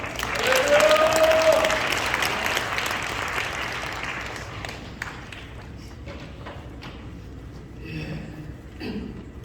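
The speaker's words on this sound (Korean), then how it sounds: "우리 한번 강사님 나왔을 때 크게 박수로 환영하겠습니다." A church audience applauds to welcome a guest pastor to the lectern, a loud, dense burst of clapping at the start that thins out into scattered claps, with a voice talking briefly partway through.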